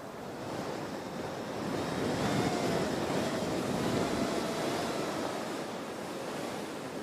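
Strong wind gusting across the open ground of Christchurch Airport, a steady broadband roar buffeting the microphone with slow swells in strength and no voices.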